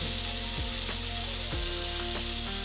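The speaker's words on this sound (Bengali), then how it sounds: "দিয়ে দিচ্ছি কাঁচা লঙ্কা, দিয়ে আর একটু আলুর সঙ্গে ভেজে নেব" Tomatoes and green chillies fry with potatoes in a pan, giving a dense, steady sizzle close by, punctuated every second or so by the scrape and knock of stirring.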